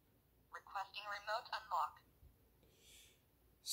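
A smart lock's built-in video doorbell sounds as a quiet electronic chime ringing through a phone, a short melodic burst followed by a fainter tone, heard alone in a quiet room.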